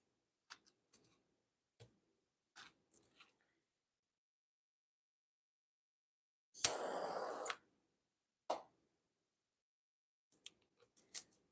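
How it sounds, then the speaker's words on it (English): Masking tape being peeled off the edge of a varnished painting in an art studio: scattered faint ticks and small pulls in near silence, then one loud sustained rip lasting under a second, followed by a few more brief tearing snaps. "So let's get the tape off of this one as well."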